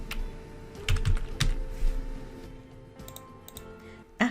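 Typing on a computer keyboard, with clusters of quick, close clicks and keystrokes in uneven bursts, growing sparser toward the end and finishing on one sharper tap, with no talking.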